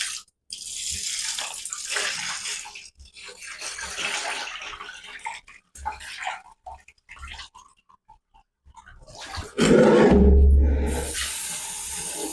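Water being poured out of a container while making wheat kurdai at home, with splashing and running water in uneven bursts and a louder gush near the end, close by.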